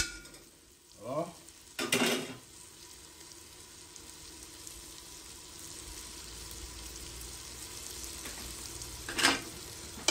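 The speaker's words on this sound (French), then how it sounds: "Je tourne et tout, je mélange." Rice with three kinds of greens and pork being stirred in a pot with tomato paste, a few short scraping stirs breaking over a steady low sizzle of frying, mostly without talk.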